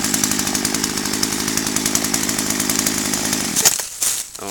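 A 33cc Poulan chainsaw with a 14-inch bar runs steadily and loud up close, a buzzing two-stroke idle with rapid rhythmic pulses, then revs briefly and cuts off.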